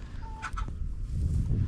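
A few brief clucks from chickens on a small farm, sounding close and soft against low rumbling background noise.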